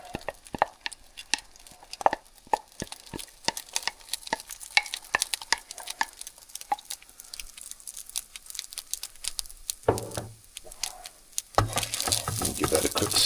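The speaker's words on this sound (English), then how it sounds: "Give that a quick stir." A spoon stirs two cups of cooked rice in a pan for chicken fried rice, giving a steady run of light scrapes and soft clicks, then a stretch of louder, rougher hissing and scraping near the end.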